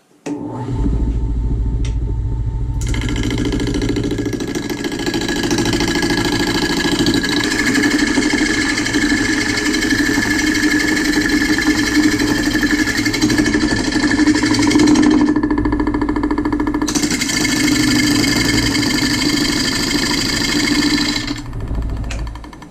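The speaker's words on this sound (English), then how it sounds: "I'll slow the lathe down initially because it's so out of balance" A small wood lathe spins an out-of-balance nut bowl blank with a loud, steady motor drone and rhythmic thumping rumble, briefly dropping away then resuming without talk.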